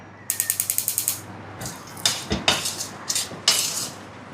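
A gas stove is switched on: a quick run of about ten sharp ratcheting igniter clicks, then several louder metallic clatters and knocks from the burner and pan, close and crisp with quiet gaps between.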